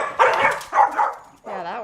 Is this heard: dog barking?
yes